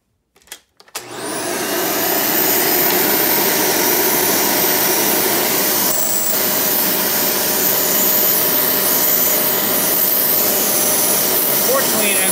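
A Hoover Elite 350 upright vacuum cleaner switches on after a brief clunk and runs loud and steady, a dense airy roar with a high whine that holds unchanged to the end.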